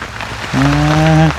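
Steady rain falls in a continuous broadband hiss. A sustained humming tone joins it midway, then cuts off before the end.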